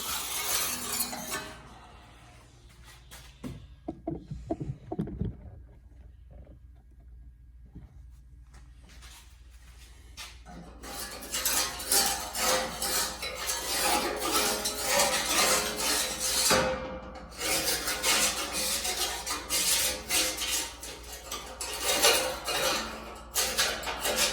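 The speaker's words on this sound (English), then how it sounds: "So I always clean in between there with my putty knife and get all the dirt and gravel out of it." A putty knife scrapes dirt and gravel out from between metal parts of a Moose UTV plow moldboard, with scattered clinks at first, then a long stretch of loud, gritty, continuous metallic scraping up close.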